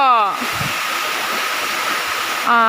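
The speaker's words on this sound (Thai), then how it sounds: "ตอนนี้ก็คือน้ำตกชั้นสามนะคะ" The third tier of a waterfall at Mae Kampong village in Chiang Mai gives off a loud, continuous rushing hiss, with a voice heard briefly at the start and end.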